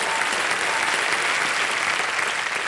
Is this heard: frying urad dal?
no